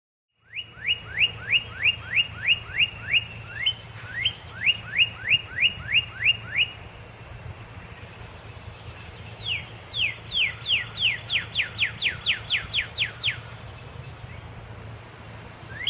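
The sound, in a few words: cardinal singing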